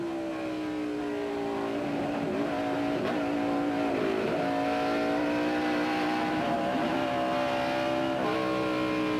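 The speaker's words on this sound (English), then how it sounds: "Speed is building. Shift, starts shifting." A race car at Watkins Glen in 2001 accelerates down a straightaway. Its engine holds a loud, sustained roar that climbs in pitch, drops briefly at several gear shifts and then climbs again, close and continuous with no talk.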